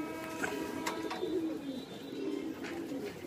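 Pigeons in a breeding loft coo softly in short low phrases, with a few faint chirps in a quiet room.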